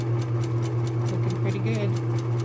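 A home sewing machine running steadily in reverse while backstitching a zig zag seam finish on fabric, a continuous close motor hum with a fast rhythmic stitch tick throughout.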